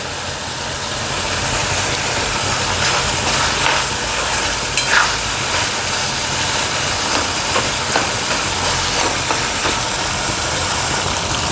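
Pumpkin simmering in a pan for a tarota leaf vegetable dish, with a steady sizzling bubble and occasional scraping stirs, fairly loud and close, with no talking.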